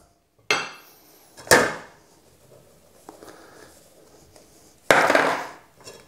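Cocoa powder is sifted through a sieve for condensed-milk chocolate truffles: a few sharp knocks and rattles of the sieve with soft scraping and shaking between, close by and fairly quiet, with no voices.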